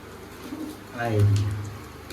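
Pigeons kept at home give a low, throaty coo, one clear rolling call rising in the middle, heard close over a faint background with a voice speaking nearby.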